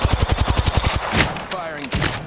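Gunfire in a video game: a rapid burst of about a dozen evenly spaced automatic shots, loud and close, then a few scattered reports with a voice briefly heard among them.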